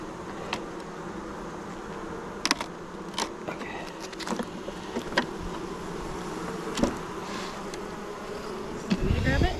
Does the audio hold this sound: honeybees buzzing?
yes